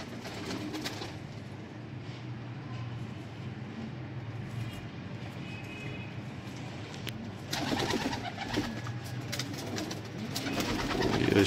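A Sialkoti pigeon coos softly and repeatedly at close range, set against a steady low background hum.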